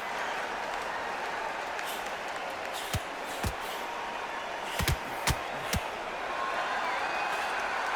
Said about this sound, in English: you can hear everybody in the crowd